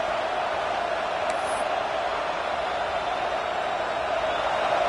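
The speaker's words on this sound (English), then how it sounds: "the crowd really making some noise now, trying to help out this defense to get this stop near the goal line." A football stadium crowd roars continuously at a Georgia vs Clemson game as the defense tries for a stop near the goal line, a dense, loud, even wall of cheering with no clear voices on top.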